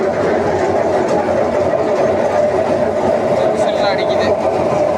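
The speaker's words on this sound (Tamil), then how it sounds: "அங்கேருந்து அள்ளிட்டு வந்து அவுளை அடிக்கிற மிஷினில் கொட்டுறாங்க" A machine pounds black kavuni rice into flattened rice, giving a steady mechanical chugging and rumbling drone throughout, with a person talking over it.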